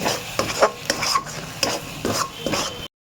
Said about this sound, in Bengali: মটরশুঁটির পুরটা তো শুকনো করছি।